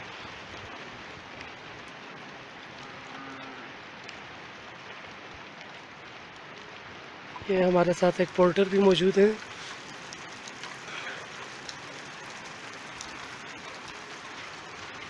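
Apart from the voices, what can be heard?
heavy rain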